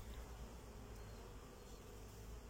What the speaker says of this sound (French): là on a un bel exemple de frelon asiatique qui est devant la ruche